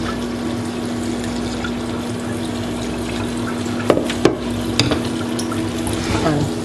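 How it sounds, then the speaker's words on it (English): Cooked spaghetti poured from the pot into a strainer, a steady rushing splash of water and pasta with a few sharp clanks of the pot against the colander partway through. "We'll now turn it over to a strainer."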